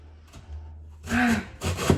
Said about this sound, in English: So I cut the carrots in half and I'm just grating it.